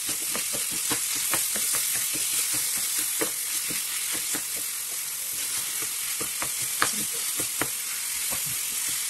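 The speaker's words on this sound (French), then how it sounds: "Je fais chauffer mon huile d'olive et je viens ajouter ma viande hachée," Minced meat, onions and garlic frying in hot olive oil, a loud even sizzle with frequent crackles and spatula scrapes as the mixture is stirred, nobody speaking.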